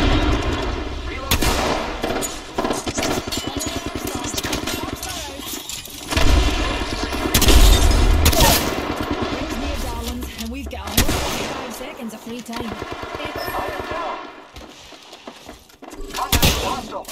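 Video game gunfire in rapid automatic bursts and heavy booming shots, loud and close, repeating through the whole stretch with dense overlapping battle noise.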